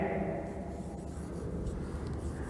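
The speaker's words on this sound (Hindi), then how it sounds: "तो मैं लिखता हूं" Marker or chalk scratching across a classroom board during a maths lecture, a faint continuous rubbing stroke with a few light taps, close by with no speech.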